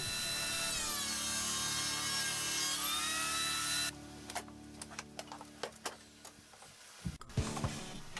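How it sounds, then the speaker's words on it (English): Power saw trimming the sides off 4x4 lumber for a multi-tool workbench: a steady loud whining cut that stops abruptly, followed by scattered knocks and handling of the wood. "It just takes less time to use the saw to chop off a little bit of material"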